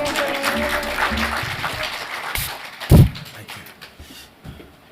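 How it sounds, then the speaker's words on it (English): Scattered conference audience applause at a Kenyan university event fades out unevenly, with a sharp thump near the middle and a few trailing claps, mixed with faint background murmur. "Let's give Prof a round of applause"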